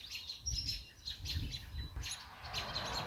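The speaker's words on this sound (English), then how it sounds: "Don't know what the robins are on about." Robins chirp in a backyard vegetable garden, with several short bright calls repeating in quick bursts at moderate distance over quiet outdoor background.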